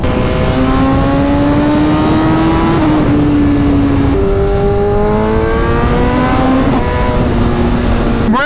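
A BMW S 1000 RR sport bike fitted with an Akrapovic short-can exhaust and full header, revving loudly and close by, its engine note rising and falling through several sustained pulls with brief drops between them.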